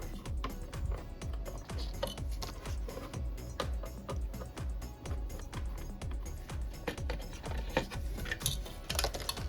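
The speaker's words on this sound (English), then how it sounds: "to remove the woofer, we will need to take off 4 screws off from each woofer" Small screws being undone from the woofers of an Anker Soundcore Motionboom Plus speaker, a steady run of close, light ticks and clicks, with no voices.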